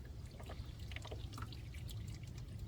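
Head gasket sealer with a thick, oatmeal-like texture being poured from a bottle into the engine of a 1994 Chevy Blazer K5, a steady close trickle over low engine-bay hum.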